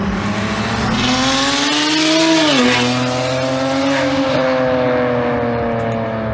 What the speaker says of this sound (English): And this is what it sounds like now.